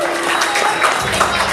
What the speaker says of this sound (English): can everybody give them a big round of applause?